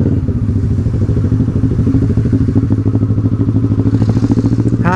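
A motorcycle engine idles and revs steadily up close, a loud low rumble with a rapid throbbing pulse throughout.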